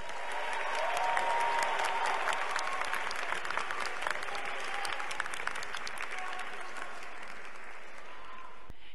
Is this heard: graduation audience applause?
yes